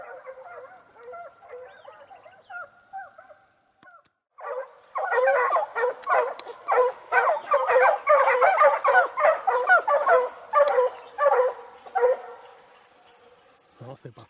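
Several dogs, said to have colds, bark and yip in a dense, loud run of calls that lasts most of the clip, with a fainter stretch before it.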